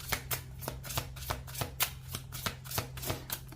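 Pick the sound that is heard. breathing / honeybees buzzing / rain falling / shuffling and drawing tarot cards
shuffling and drawing tarot cards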